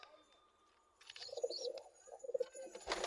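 Pet pigeons on a rooftop coo softly in short, low bursts, starting faint and growing busier after the first second, with a brief flutter-like rustle near the end; nobody speaks.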